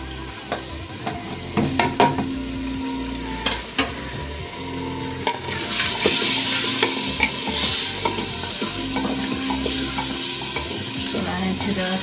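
Spiced masala with ground coriander, crushed and ground chilli, turmeric, cumin and garam masala is stirred in a hot pan for tinda gosht, with loud close sizzling, frying and repeated scraping spoon strokes that grow louder midway.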